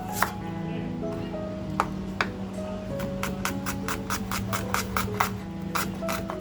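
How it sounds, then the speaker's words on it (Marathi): An onion is sliced with a knife on a cutting board, crisp rhythmic chops that start sparse and quicken into a fast, evenly spaced run of close, sharp taps, with faint background hum. "तो कांदा आपण छान असा चिरून घेऊया"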